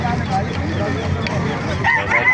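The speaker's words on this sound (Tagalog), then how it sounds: "Ganda ng manok." Chickens and a rooster crow and cluck at a busy chicken market in Calumpit, Bulacan, with voices chattering nearby throughout.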